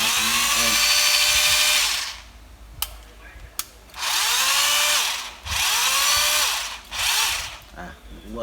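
Budget Bosch 36V hammer drill boring into concrete, loud whining bursts of drilling that start, stop and restart several times with brief pauses between runs, no talking.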